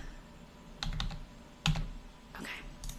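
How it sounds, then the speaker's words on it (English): Keystrokes on a computer keyboard in a few separate short bursts with pauses between them, close up and moderately quiet over a low background hum, with no talking. "I started typing"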